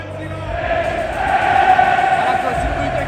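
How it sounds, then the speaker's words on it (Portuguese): Inter supporters singing in a packed stadium at a City vs Inter Champions League final, a massed chant rolling on steadily and swelling midway, with crowd noise beneath. "A torcida do Inter cantando pra caraca,"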